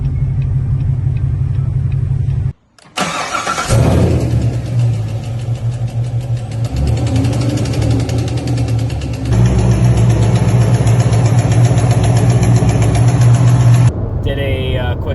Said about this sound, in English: He had a knocking sound, didn't know if it was top end, bottom end. The car was misfiring